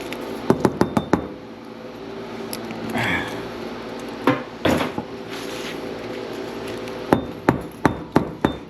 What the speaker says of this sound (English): the copper just taps right out